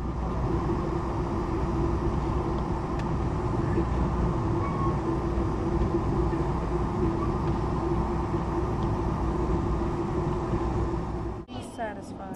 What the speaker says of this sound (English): the California Zephyr passes a freight train waiting on a siding